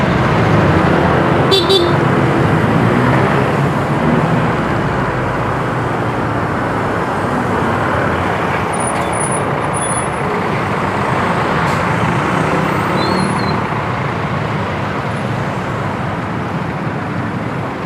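Rush-hour road traffic with cars, trucks and buses rumbling past close by, a dense continuous roar, broken by a short car horn toot early on and a few faint high squeaks later.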